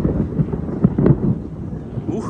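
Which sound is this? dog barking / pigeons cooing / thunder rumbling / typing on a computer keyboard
thunder rumbling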